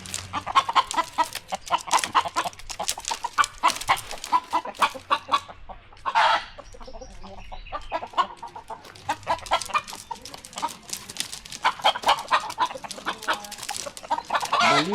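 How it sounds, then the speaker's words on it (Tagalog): Balinese chickens clucking close by, a busy stream of short, rapid clucks and squawks with occasional louder calls, continuous across the scene. "Balinis chicken."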